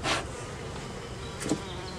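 Russian honey bees buzzing in an open hive during a split, a dense continuous drone with a couple of louder individual bees passing close.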